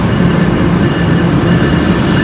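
A subway train rumbles through a station, a loud, steady roar with a continuous low drone and no voices.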